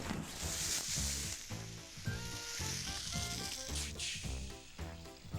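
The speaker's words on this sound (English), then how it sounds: "this is your frozen holiday turkey in the boiling oil" Frozen holiday turkey in a fryer full of boiling oil, giving a loud, steady sizzle and crackle with rhythmic bubbling pulses running throughout, with no voices.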